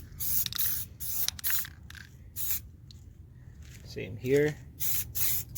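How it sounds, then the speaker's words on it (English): Short hissing bursts of spray paint from a can coat the door handle of an original Ford Taurus SHO, repeated in several close, sharp puffs with brief talk between them. "I'm gonna start spraying up here."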